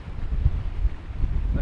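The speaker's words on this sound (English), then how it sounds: "It's still pretty windy." Steady, heavy wind buffeting close by on open hill slopes in the Scottish Borders near Glensax, rumbling low and gusting unevenly throughout.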